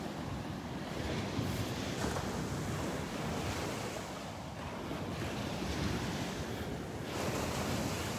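Ocean surf rolls in steadily at Delnor-Wiggins beach on a morning walk, a continuous wash of breaking waves with wind buffeting the microphone throughout and no talking.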